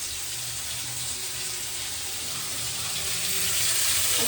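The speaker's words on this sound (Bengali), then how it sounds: "তাই আলু ভাজা করছি এখন।" Potatoes fry in a pan with onion and dried red chilli, a steady broadband sizzle and crackle running unbroken at close range and swelling slightly toward the end, with no talk over it.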